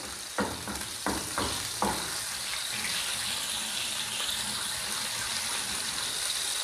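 Onion sizzles steadily in butter in a hot pan, opening with a few clanks and scrapes of stirring, then a continuous frying hiss.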